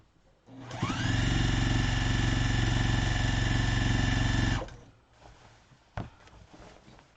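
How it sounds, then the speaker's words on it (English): A sewing machine runs steadily for about four seconds, stitching a quarter-inch seam on a pineapple quilt, with a loud, even motor hum that stops abruptly, followed by a faint click. "And I'm sewing it with a 1/4 inch seam."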